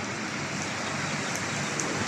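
Heavy rain pours down in the UAE, a dense, loud, unbroken roar of water with occasional brighter drop splashes and no voices.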